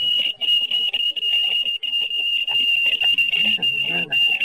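An international code signal played back from a reel: a steady high-pitched tone keyed in broken dots and dashes, fairly loud and close, with faint murmurs underneath.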